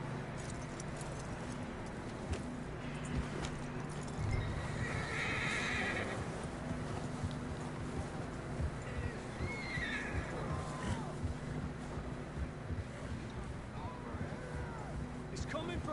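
Horses whinny and neigh in Red Dead Redemption 2 with the clip-clop of hooves, set against a steady ambient bed. A loud neigh rises midway and a fainter one comes later, and voices talk at times.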